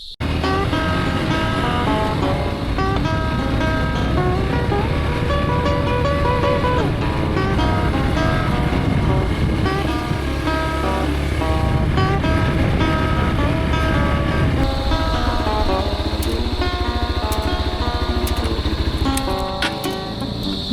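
A motorcycle engine drones steadily and close while riding a trail in Sagada, keeping a constant, rough hum for the whole stretch, with a slight shift in tone partway through and no talking.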